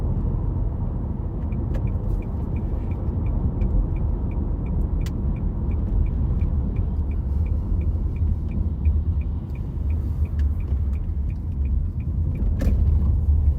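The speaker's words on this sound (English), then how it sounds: "just going to do a little bit more of the bends and the country driving" A car drives along a bending country road, and a steady low engine and road rumble fills the cabin throughout. A faint regular ticking, like an indicator, runs over it, with no talking.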